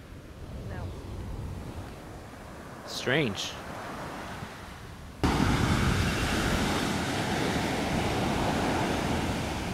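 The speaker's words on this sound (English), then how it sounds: "Man, that power of the Pacific Ocean. Look at that. Rushing all the way up this hill." Pacific Ocean surf at a Malibu cove rushes up the beach, a steady roaring wash that swells suddenly loud and close halfway through, with wind noise and a brief spoken word early on.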